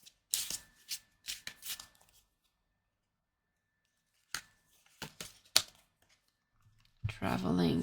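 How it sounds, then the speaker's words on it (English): Tarot cards shuffled and drawn, giving several short papery riffling bursts that cluster early and again midway, then a longer, steady shuffling rush at the end; no talking. "Let me draw one more card."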